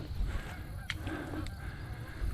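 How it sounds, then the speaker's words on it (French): Geese honk a few times in the distance over a steady low rumble of wind and outdoor noise, during a September goose hunting opener in Minnesota. "Les oies qui posent là-bas."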